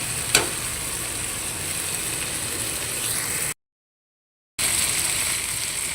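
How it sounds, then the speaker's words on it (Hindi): Onions frying in a pan for bhindi chicken give a steady, close sizzle with one brief clatter near the start, broken by a second of silence, no talk. "ये प्याज हमारे हल्के से फ्राई हो गए।"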